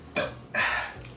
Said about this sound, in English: I can do something when I burp